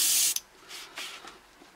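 A Badger airbrush gives a loud short hiss of spray, then fainter puffs of air follow as the trigger is worked, close up with no talking.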